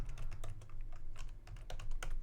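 Fast, irregular clicking and clacking of computer keyboard keys being typed on, close and fairly quiet, with no talking.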